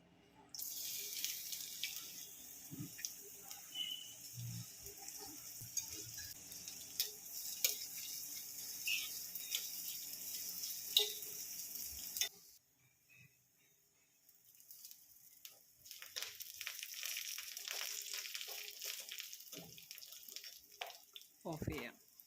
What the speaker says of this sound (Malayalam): ഉള്ളി അരിഞ്ഞതിടാം.